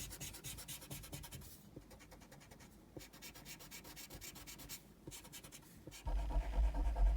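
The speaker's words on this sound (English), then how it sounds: "I can just erase these guidelines." Pencil guidelines on paper being rubbed out with an eraser, a steady scratchy rubbing that continues in quick back-and-forth strokes, close and fairly faint, with a louder brush at the end.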